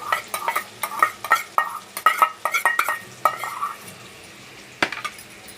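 Chopped onions sautéing in hot oil and melted butter for pav bhaji, with repeated clinks and scrapes of a spoon against the pan over a faint sizzle, close and moderately loud, quieter toward the end.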